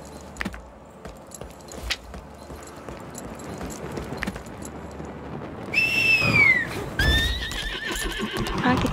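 A horse in the video game Lost Ark whinnies loudly midway through, followed by a second neigh, with clopping hooves and rustling movement in the background.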